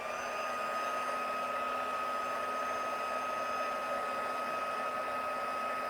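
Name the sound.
heat embossing tool blowing hot air on paper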